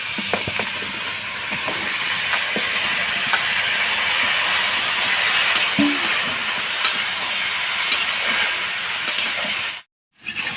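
Chopped bottle gourd frying in hot oil in a pan, a loud continuous sizzling hiss with scattered crackles and an occasional stir, steady until a sudden brief cut near the end.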